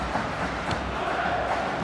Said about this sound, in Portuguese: E claro que a torcida tá feliz com o time. Escuta a sua festa, Caio.